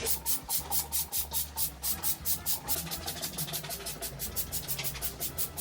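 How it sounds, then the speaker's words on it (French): A bleach cleaning spray is pumped onto stubborn spots during a household deep clean, with a quick, regular series of sharp hissing spritzes, about twenty in a row, close and fairly loud, with no voices. "Ensuite spray Javel sur les endroits"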